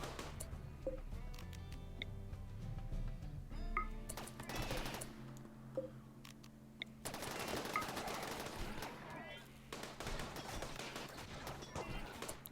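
Gunfire from a RimWorld battle against mechanoids, with bursts of machine-gun-like automatic fire and scattered shots repeating across the clip at moderate loudness over busy game sounds.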